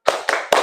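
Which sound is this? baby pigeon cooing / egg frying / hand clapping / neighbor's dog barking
hand clapping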